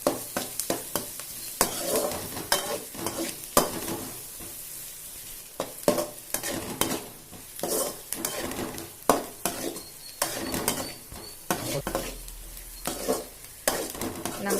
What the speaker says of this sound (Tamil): இது வதங்கினதுக்கு அப்புறம் நம்ம தக்காளி போட்டு ஃப்ரை பண்ணிடலாம்.